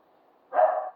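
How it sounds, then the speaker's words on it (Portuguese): A single short dog bark sounds out clearly after a brief quiet moment with a faint background hum. "O cachorro tá latindo ali"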